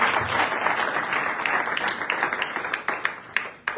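A church congregation applauds during a worship service, a dense wash of many hands clapping that thins toward the end into a few scattered, distinct claps.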